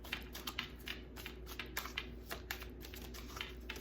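A Cirque du Tarot card deck is shuffled close by, giving a quiet run of crisp, irregular clicking and riffling bursts with no speech.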